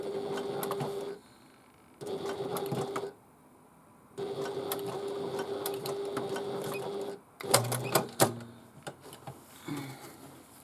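A sewing machine stitches along the bottom of a tote bag in several bursts of rapid whirring, separated by short pauses, followed by a few clunks and handling noises near the end.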